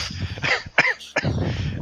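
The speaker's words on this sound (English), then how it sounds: "I see you started coughing from the dry air" A few short, sharp coughs close to the microphone, spaced irregularly, with some breathy throat noise between them.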